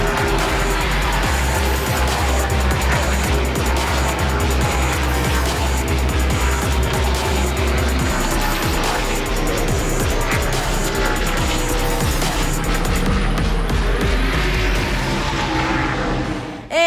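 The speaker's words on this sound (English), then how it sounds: "We were up close and personal to the fast cars" NASCAR race cars roar along pit road at the Pennzoil 400 in Las Vegas, heard up close at ground level: loud, continuous engine noise with repeated pass-bys and shifting pitch, fading briefly near the end.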